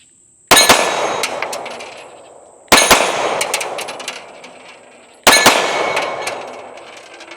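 A Mossberg MC2C pistol fires at steel targets, three sharp loud shots spaced a couple of seconds apart, each with a bright metallic clang ringing off the steel and decaying.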